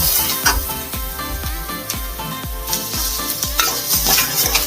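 Food lightly fried in a little oil and stirred in a pan, with a rhythmic series of spatula scrapes and knocks about twice a second over a continuous sizzle.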